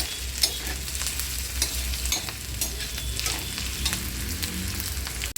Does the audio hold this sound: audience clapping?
no